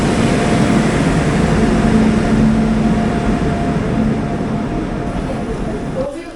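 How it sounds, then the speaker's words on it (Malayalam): The Sainagar Shirdi–Dadar Express, hauled by WAG-9 locomotive 32665, rolls in with a loud, steady rumble and a sustained horn-like tone, fading slightly toward the end as a voice speaks over it. "ഇപ്പോഴത്തെ സായിനഗർ ഷിർഡി ദാദർ എക്സ്പ്രസ് ആണ് ഈ കയറി വരുന്നത്."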